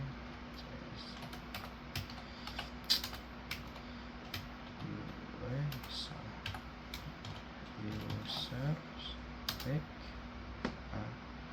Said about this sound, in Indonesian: Untuk awal kita ketikkan dulu yaitu user